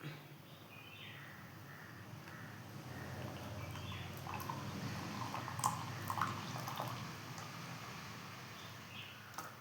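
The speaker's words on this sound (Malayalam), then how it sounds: "അപ്പം ഇതിലാക്കിയ ചായ നമുക്ക് ഒഴിച്ചിട്ട് കുടിക്കാം" Tea is poured from a pot into a cup, a soft, fairly faint liquid trickle with a few drips over a quiet room background, without any speech.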